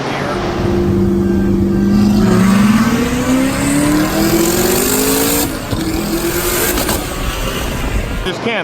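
A 1,200 whp twin-turbo Corvette Z06 engine revs loudly up close, its pitch climbing steadily before a brief break and a renewed pull.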